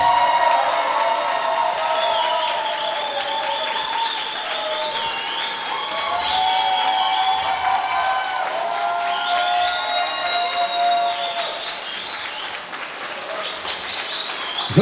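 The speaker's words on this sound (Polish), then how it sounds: "na początek poproszę o wielkie, wielkie brawa dla Kamili i Łukasza!" Wedding guests applaud the bride and groom, a sustained wave of crowd clapping with some cheering that carries on steadily for about fifteen seconds, while music and singing sound over it.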